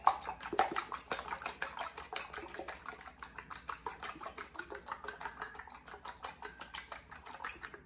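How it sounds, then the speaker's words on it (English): Eggs are beaten in a bowl with a rapid, even rhythm of clicking whisk or fork strokes against the sides, close and fairly quiet, continuing without pause. "I'm mixing these eggs up"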